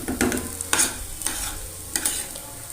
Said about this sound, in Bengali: তো এখানে আলুটা বানানো হচ্ছে, ভেতরের যে পুরটা হবে সেটা